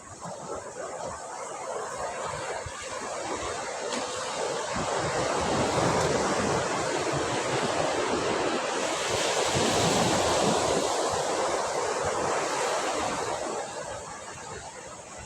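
Ocean waves roll in at Sagareshwar Beach in Vengurla at sunset, a steady broadband wash of surf with wind buffeting the microphone, swelling slightly louder midway and holding continuously throughout.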